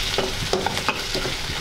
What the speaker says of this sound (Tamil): வெங்காயம் கொஞ்சம் பொன்னிறமாக வறுக்கணும்.